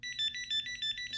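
Electronic buzzer on a small toy robot buggy kit playing its first tone: a rapid, steady warbling beep pattern, close and thin, repeating evenly for about a second.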